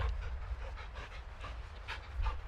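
A caged dog panting in Call of Duty: Modern Warfare 2, quick soft rhythmic breaths heard faintly over a low rumble of ambience.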